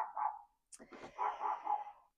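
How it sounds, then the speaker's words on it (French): A dog barks and whines indoors, a couple of short bursts with brief pauses, fairly close and moderately loud, with no other sound competing. "ah, mon chien insiste"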